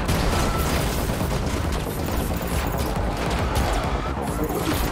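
Heavy gunfire from The Matrix Awakens on PS5 rattles on without pause, dense and loud, mixed with crashing impacts and faint voices underneath.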